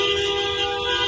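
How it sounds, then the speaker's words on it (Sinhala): Vehicle horns blare in a continuous, steady honk as motorists protest a passing VIP convoy, loud and close with no break. "හෝන් ගහන්න අකමැත්ත පෙන්නන්න"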